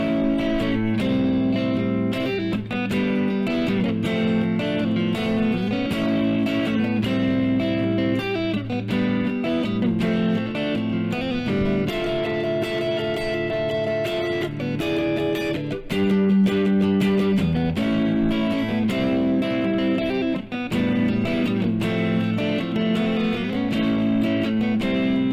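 Guitar playing the outro section of a song, a loud, dense and continuous run of chords with a thick, effected tone, sustained steadily for about 25 seconds with no talking.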